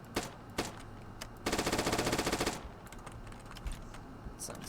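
A full-auto Glock 18 pistol in a Modern Warfare mod video game fires a few single shots, then one rapid sustained burst lasting about a second, followed by scattered quieter clicks, close and with no talking.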